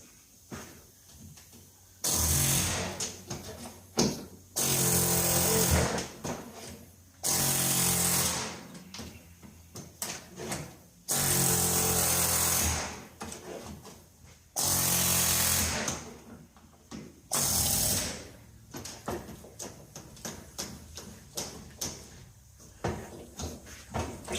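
An air chisel pops a spot-welded panel off a car body during a coupe-to-fastback conversion, firing in loud harsh rattling bursts of a second or two each, about eight of them with short pauses and clanks between, close and with no talking.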